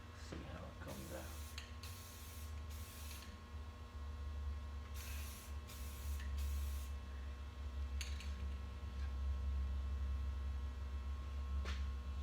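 Short hissing bursts of Rust-Oleum chrome spray paint from an aerosol can, several quick sprays over a steady low hum, fairly quiet and close.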